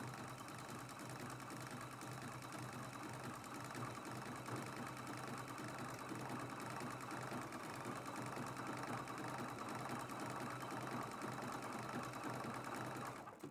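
Sewing machine stitching a T-shirt quilt, a steady dense mechanical whir running continuously at close range with an even level throughout.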